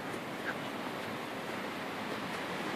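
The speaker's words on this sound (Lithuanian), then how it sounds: "Iš didžiaus skamba vandenynas." Ocean surf in the Seychelles, a faint, steady wash of waves with a soft wind-like hiss and no distinct breaks.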